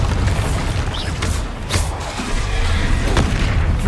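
Bombarda explosion spells in the video game Hogwarts Legacy, heard as loud booming blasts and thuds in a dense, continuous layer of game combat noise with whooshing spell effects.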